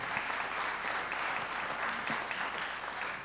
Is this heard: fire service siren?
no